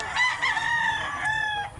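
Close and loud, a big rooster in Mantalungon, Barili, Cebu lets out a single drawn-out crow with a clear rising start and a long wavering tail, alone without talk.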